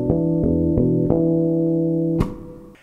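Natural harmonics ring out on a bass guitar: a few plucked bell-like tones, each sustaining and overlapping into a steady chord before a brighter final pluck, played alone with no talking.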